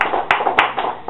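A few sharp claps ring out in quick succession in a church, loud and close, with the clapping rising and falling over a second.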